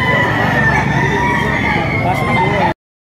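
A gamefowl stag crows loudly and continuously at a busy gamefowl market in Padre Garcia, Batangas, with other birds clucking and a dense crowd murmur behind it before the sound cuts off abruptly.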